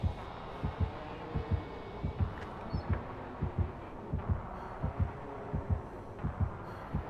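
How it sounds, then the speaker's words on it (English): Killer terror radius heartbeat from the Dead by Daylight video game pulses in a steady, evenly spaced low thumping rhythm, about two beats per second, moderately quiet and with no talk over it. "I keep hearing the heartbeat."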